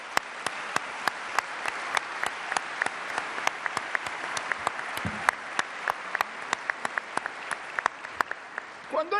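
An audience applauds at a debate on Keynes and the General Theory held at Palacio Libertad. Dense, sustained clapping fills the room at an even level, with individual hand claps standing out sharply.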